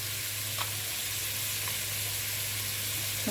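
Crab sautéing in a pan with diced tomato, vegetable stock cube and spices, a steady close sizzle and fry running throughout with no talk.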